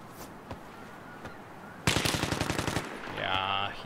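A rapid burst of automatic gunfire in a video game, about a dozen quick shots in a second, loud and near after quiet background, followed by a tonal electronic game sound.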